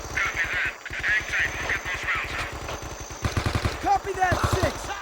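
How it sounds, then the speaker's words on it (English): Rapid bursts of heavy machine gun fire, likely .50 caliber, in a Vietnam War video game, rattling in dense repeated volleys at close range with a brief gap partway through. "Machine gun fire, possibly 50 cal."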